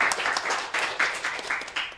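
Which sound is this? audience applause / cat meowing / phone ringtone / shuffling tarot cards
audience applause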